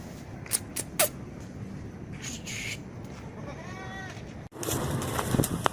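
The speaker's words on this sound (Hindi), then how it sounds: "ये एक बकरी है और टेडी नस्ल की बकरी है ये।" A Teddy breed goat at a livestock market gives a short, faint bleat midway, set against steady background noise and a few sharp clicks, with no talk.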